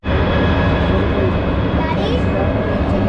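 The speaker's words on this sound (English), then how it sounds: "We're going to be standing here for the jet to take off" A jet airplane's engine roars loud and steady on the ground before takeoff, a constant broadband rush with a faint whine that holds for the whole stretch.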